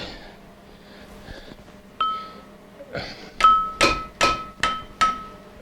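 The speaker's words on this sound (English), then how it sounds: "we're using a smaller breaker bar. This is a 5/8 bolt all the way around" Metal strikes ring out sharply as work is done on a 5/8 bolt of a Dauntless V6 engine in a Jeep CJ5. A series of about five quick, close clanks with metallic ringing follows a few softer knocks.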